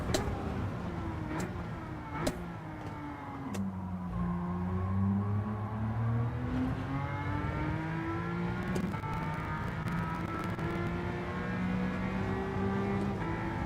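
A McLaren GT3 race car engine in a racing game revs high toward 8,000 RPM, its pitch climbing and dipping through gear shifts, loud and continuous with no talking.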